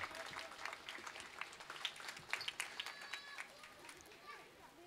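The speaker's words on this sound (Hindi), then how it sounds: "जोरदार तालियों से स्वागत।" Audience applause at a Shri Ram Janmbhumi Nidhi Samarpan gathering welcomes a speaker, a steady wash of clapping with sharp individual claps over faint background chatter throughout.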